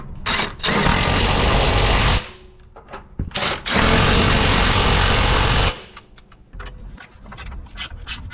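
A power tool tightens 10 mm motor mount bolts on a Ford Transit, running in two long loud buzzing bursts of about two seconds each, plus several short blips and pauses between them.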